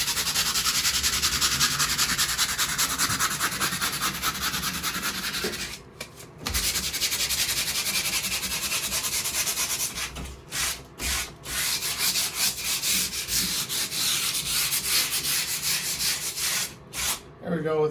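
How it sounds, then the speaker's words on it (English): Sanding a drywall patch by hand with 220 grit sandpaper, a continuous rhythmic rubbing scrape with a few short pauses between strokes, close and fairly loud. "There we go, with a little bit of sandpaper. This is just 220 grit."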